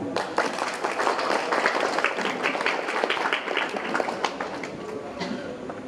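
A small group claps steadily for several seconds at an 80th birthday celebration, scattered hand claps forming a moderate, lively applause with faint voices mixed in.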